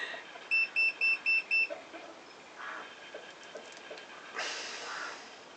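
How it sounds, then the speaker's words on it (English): A digital multimeter gives a rapid run of five short, high electronic beeps near the start while testing a vintage outboard motor, then fades into faint background rustling and handling noises. "that beeping noise, that is the multimeter"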